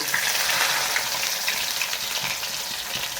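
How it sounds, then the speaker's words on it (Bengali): Chopped onions frying in hot oil for a chicken curry, a loud, steady close-up sizzle with crackling throughout and no talk. "পেঁয়াজ ঢালা হচ্ছে"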